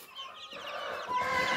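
High, thin peeping from several young chicks overlaps in quick chirps, close by, with soft clucking beneath.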